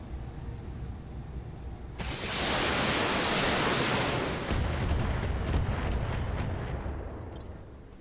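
Mech weapons fire in the BattleTech video game, a dense, loud rush of explosive blasts and rumbling roar that swells and sustains for several seconds with crackling impacts over it.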